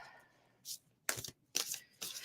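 Oracle cards are shuffled nearby in three short, papery riffling bursts separated by brief pauses, quiet and close.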